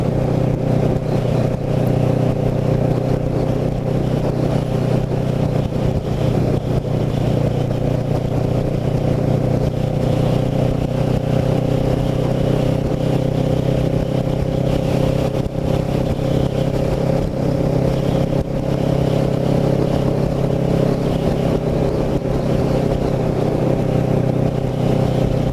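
Kawasaki Ninja motorcycle riding along a road in Cumberland County, its engine giving a steady, continuous drone with a low hum and faint rising revs, close and constant throughout with no talking.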